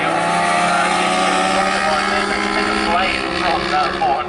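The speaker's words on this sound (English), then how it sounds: "From that 400cc machine as he changes gear and crosses the line in second place." 400cc racing motorcycle screaming at high revs as it crosses the finish line at a circuit, a dense loud engine whine with a gear change, under a commentator's voice.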